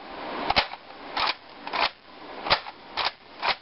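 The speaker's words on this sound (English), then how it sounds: "Okay, all the screws are tight. Here's the locking bolt." Bolt of a modded Nerf Longstrike CS-6 blaster being worked, giving about seven sharp, close plastic clacks in uneven pairs and singles, loud and alone.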